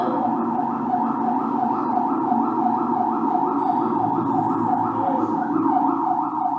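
A wailing ambulance siren cycles steadily and rapidly, loud and close, sustained without pause over a low vehicle rumble.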